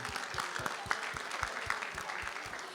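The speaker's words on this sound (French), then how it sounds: "On applaudit tous les musiciens, les chanteurs, chanteuses" Gala concert audience clapping for jazz musicians and singers, a moderate, slightly distant patter of hands with a few sharper individual claps standing out in loose rhythm.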